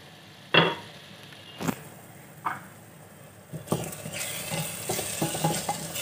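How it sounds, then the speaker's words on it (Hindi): Masala for rajma frying in ghee in a pot: soft sizzling under sharp, close stirring and scraping strokes, growing busier toward the end. "मसाला बहुत अच्छे से भुन चुका है और इसने तेल छोड़ना भी शुरू कर दिया।"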